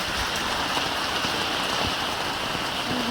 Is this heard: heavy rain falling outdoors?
yes